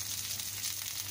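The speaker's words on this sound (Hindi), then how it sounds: "तवे पर ही हमने तेल गरम कर लिया है। इसमें प्याज डाल लेंगे।" Onion fries in hot oil on a griddle with a steady, close sizzle that stays even throughout the short stretch.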